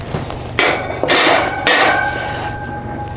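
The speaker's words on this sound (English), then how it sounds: "So, let's get our grill grates on there." Metal grill grates set down onto a PK 300 grill, three loud clanking impacts about half a second apart, each ringing briefly, close by with no talk.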